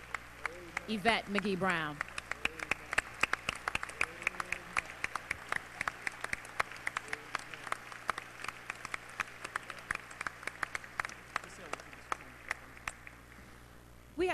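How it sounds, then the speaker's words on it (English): Banquet audience applauding at a NAACP Freedom Fund dinner, a standing ovation for an honoree; dense clapping runs throughout, moderately distant, with a speaker's voice over the start. "let's give a round of applause, a standing ovation, should I say, to the Honorable"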